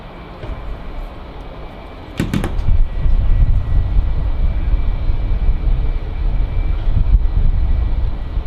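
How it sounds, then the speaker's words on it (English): Emirates Boeing 777 jet engines spooling up at Manchester Airport, a low steady rumble that swells after a couple of seconds and holds at a loud, sustained roar. "you'll hear the noise of the Emirates 777 starting up"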